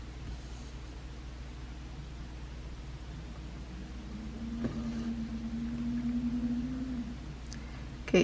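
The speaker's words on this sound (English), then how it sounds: "the garbage truck is running on the street right now" Garbage truck running on a street outside, heard as a steady low engine rumble with a droning tone that rises and holds midway, then a brief louder knock at the end.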